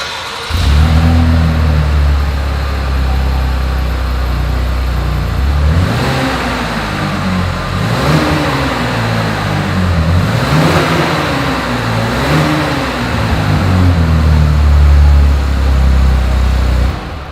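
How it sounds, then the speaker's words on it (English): A 2021 Chevrolet Blazer engine revs repeatedly through its exhaust, rising and falling in several loud pulls over a deep, steady rumble. "As always, here is that exhaust clip."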